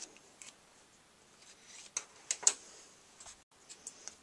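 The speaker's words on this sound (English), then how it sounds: "I'm just going to take my scissors with this small little point and just cut them out" Small pointed scissors snip out paper leaf shapes for a handmade card, giving a series of quiet, crisp, irregular cuts close by in an otherwise hushed room.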